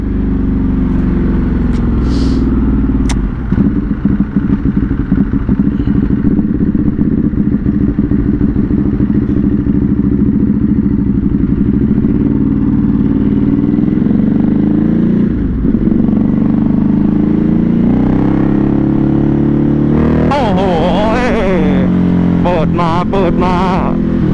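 A Ducati Hypermotard motorcycle engine revs while riding, with a loud, steady, rough, harsh drone rising and falling through gear changes. Near the end it climbs into sharp revving bursts, and someone speaks over it.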